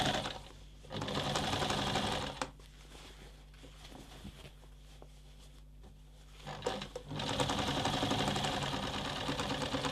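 Sewing machine stitching the final seams of a cotton apron dress, running in two loud, steady bursts of fast, even whirring with a quieter pause between them and no talk.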